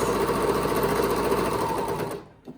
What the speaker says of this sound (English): Feed it right through. Sergers are an amazing little machine that save you a lot of time